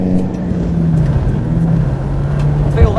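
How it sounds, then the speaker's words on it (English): A car engine runs at a steady idle, giving a close, continuous low hum with an even rumble and a brief thump near the end. "Feel that? That's because of an engine."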